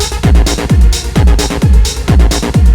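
A bright, punchy trance lead synth preset from Ableton plays a repeating pattern of short plucked notes over a deep thumping beat, loud and upfront.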